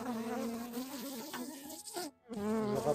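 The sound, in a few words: honeybee buzzing at the microphone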